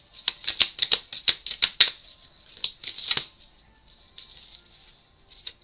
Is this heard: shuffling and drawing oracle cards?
yes